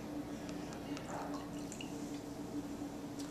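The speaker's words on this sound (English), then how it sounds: "you can start pouring your taste." Wine poured from a bottle into a glass for a tasting pour while decanting, a soft trickling splash with faint drips, low and steady under a constant background hum.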